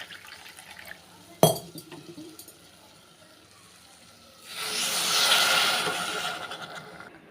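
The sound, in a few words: pouring water into a cup of jaggery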